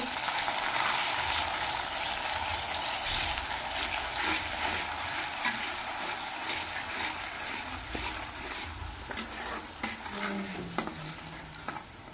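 Chopped ginger and garlic fry in hot oil for a beef curry, giving a steady close sizzle with stirring scrapes and a few sharp utensil clinks toward the end.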